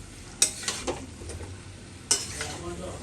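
Egg, potato and pointed gourd curry being stirred and sautéed in a pan, a soft steady sizzle broken by two sharp scraping clinks of a spatula against the metal, close and alone.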